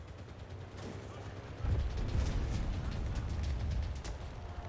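Several sharp gunshots in a video game crack in a quick irregular burst, moderately loud, over a low rumbling background.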